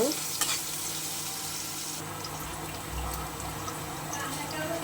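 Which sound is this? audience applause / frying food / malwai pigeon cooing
frying food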